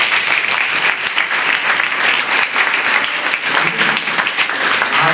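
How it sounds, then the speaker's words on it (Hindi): An audience of schoolgirls at a government high school event clapping together, dense, loud, sustained applause that fills the room evenly from start to finish, with a faint murmur of voices beneath. "उनके लिए एक बार ताली बजा दीजिए।"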